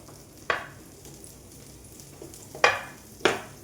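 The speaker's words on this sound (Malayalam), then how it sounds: "പാൻ വെച്ചിട്ടുണ്ട്. അതിനകത്തേക്ക് ഒരു കഷ്ണം ബട്ടർ ഇട്ട് കൊടുക്കും." Butter melting in a hot pan while cooking jackfruit murukku, a soft steady sizzle with three sharp spits or pops standing out, close and fairly quiet, no talk.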